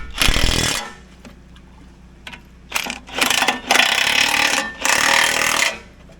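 A power tool, likely an impact wrench, rattles in repeated bursts as it tightens bolts: one long burst at the start, then several loud bursts of varying length with short pauses between them, close to the listener.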